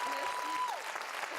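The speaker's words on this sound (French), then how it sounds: "une bonne main d'applaudissements pour Maëlle" An audience at a 2019 musical fashion show applauds Maëlle with a dense, steady wash of clapping, a thin sustained tone and a voice sounding faintly through it.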